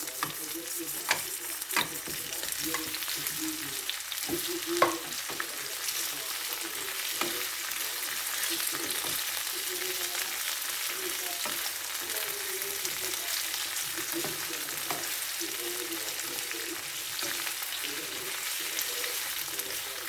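Tomatoes sizzle and fry in a pan over low heat for sweet and sour fish, a steady close crackling hiss with occasional spoon clacks and stirring scrapes, without speech.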